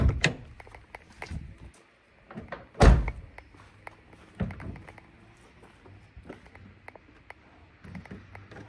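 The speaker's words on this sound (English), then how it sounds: "pop the old bonnet door." A single loud metallic clunk as a Renault 5 Prima bonnet is popped open, with softer knocks and rattles scattered before and after in a quiet space.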